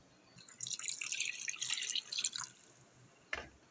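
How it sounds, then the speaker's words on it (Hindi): A short splash of water pours into a cooking pot of beef and liver with yogurt for about two seconds, followed by a soft knock, quiet and close. "छोटा 1 प्याला पानी भर के डाल रहे हैं।"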